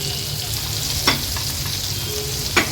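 Semolina-coated prawns fry in hot oil for a rava prawn fry, a loud, steady, close sizzle with a couple of brief stirring scrapes and no talk.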